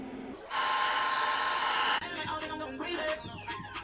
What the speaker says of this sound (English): Blow dry it.